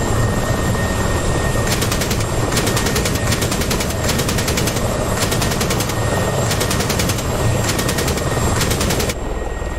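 Helicopter rotor and turbine roar loudly and steadily in a DCS flight simulator, a Yugoslav transport helicopter in a 1999 Operation Allied Force scenario, with bursts of rapid gunfire chattering over it at intervals.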